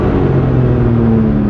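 A BMW M4 G82 engine revs steadily with a deep, continuous rumble and droning tone, close and loud throughout.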